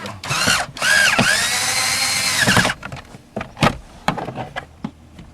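Cordless power drill driving screws during a 1995-2003 Nissan Maxima evaporator core repair: a loud whirring burst with rising and falling motor pitch for about two seconds, then a run of clicks, taps and rattles from parts handling.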